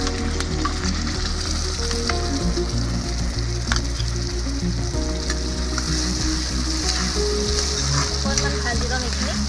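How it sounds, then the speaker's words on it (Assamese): Mustard, ginger and garlic paste frying in hot oil in a pan for a fish curry, a loud, steady, continuous sizzle with crackling that carries on without pause and without talk. "এতিয়া দিম সৰিয়হ আদা নহৰু বটা"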